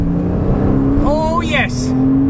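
A Porsche Cayman 987 Gen 2 drones steadily from inside the cabin as it pulls in second gear, a close, even engine tone running beneath an excited voice.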